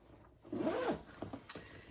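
Zipper on the back pocket of a crossbody bag pulled open in one quick, close rasping run, followed by a couple of soft rustles and a small click.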